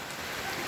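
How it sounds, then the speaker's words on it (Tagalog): Steady rain falls in Bulacan, a dense, continuous hiss of drops heard alone at moderate volume through a brief moment. "Ayan tuloy-tuloy po ang ulan dito sa amin sa Bulacan."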